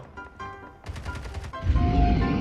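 Automatic weapon fire in Call of Duty: Mobile, quick bursts of shots in a few short volleys followed by a louder rumbling impact, with no talk during the firing.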